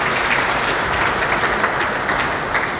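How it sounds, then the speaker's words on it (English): Audience applause at a swearing-in ceremony for new state commissioners, a dense, steady wash of many hands clapping that holds loud and even throughout. "Another round of applause for him again."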